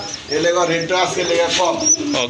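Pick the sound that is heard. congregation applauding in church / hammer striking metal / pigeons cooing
pigeons cooing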